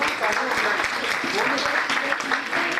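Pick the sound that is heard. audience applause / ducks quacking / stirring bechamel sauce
audience applause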